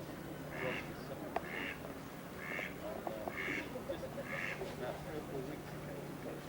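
A duck quacks in repeated bursts while swimming upstream, the calls fairly clear over steady outdoor background noise and a low hum, with some talking nearby.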